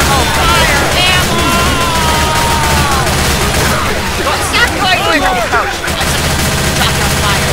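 Left 4 Dead 2 gameplay with dense, continuous rapid gunfire and loud bursts throughout, while a player shouts excitedly over the shooting.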